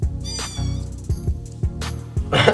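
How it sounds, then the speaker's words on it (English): Several cats meow in a row, loud and close, with drawn-out, wavering cries and a brief burst of noisy rustle at the end. "Let's move on to some cats meowing."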